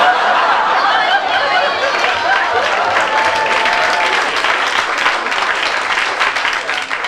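A live French stand-up comedy audience applauds at a show about unemployment, a dense, steady wall of clapping that fills the whole stretch with scattered murmurs and chuckles mixed in.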